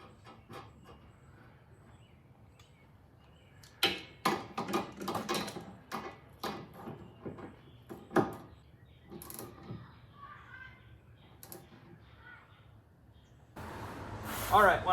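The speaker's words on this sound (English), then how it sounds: "I'll tighten it down for right here with that 16mm and the 17 millimeter wrench" Wrenches of 16mm and 17mm work on a Mini Cooper sway bar link, giving a sparse run of close metallic clicks, creaks and ratcheting clanks over a quiet background, with a louder rustle at the end.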